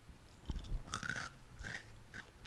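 Crunchy red beet from a whole-food plant-based box being chewed close to the microphone, with several sharp crunching bites in quick succession and no talk.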